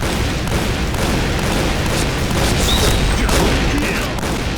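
Heavy gunfire mixed with explosions in the online shooter Point Blank, a dense, continuous barrage of rapid shots and booms that stays loud throughout without letting up.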